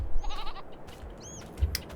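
Goats in a pen in a farming video game running an animal extension mod bleat twice in short, wavering calls, each standing out against a low rumbling background with no talk.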